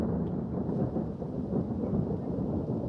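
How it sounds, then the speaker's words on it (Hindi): Low, continuous rumbling roll of thunder during a heavy village storm, steady and fairly loud throughout with a faint wash of rain underneath and no talking. "ये नॉइज़ है बिजली कड़कने की।"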